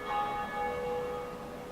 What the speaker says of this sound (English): that is the same bell ring that was going as I was climbing